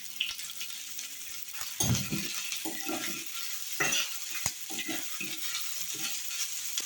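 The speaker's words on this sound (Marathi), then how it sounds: "इथे मी एक कढई गरम व्हायला ठेवली आहे त्याच्यामध्ये मी दोन चमचे तेल घालते त्याच्यामध्येच आपण हा कांदा घालणार आहोत" Chopped onion fries in two spoons of hot oil in a kadhai, giving a steady crackling sizzle. Scraping stirs of a spoon against the metal pan are heard up close, with no talk.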